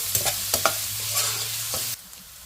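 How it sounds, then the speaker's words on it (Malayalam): Turmeric powder stirred into sautéing onions in a pan for a vegetarian curry, giving a steady soft sizzle with a few scraping stir strokes, close and alone, ending abruptly. "അര ടീസ്പൂൺ മഞ്ഞൾപ്പൊടി നമുക്ക് ഇപ്പം ഇട്ട് കൊടുക്കാം ഒന്ന് വഴറ്റാം"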